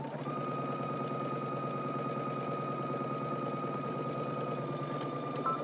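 A sewing machine stitches a 5/8-inch seam on a pant leg, running in one continuous, even mechanical whir with a steady hum and a faint high whine, close and uninterrupted for several seconds.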